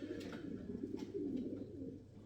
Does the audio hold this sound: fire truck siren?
no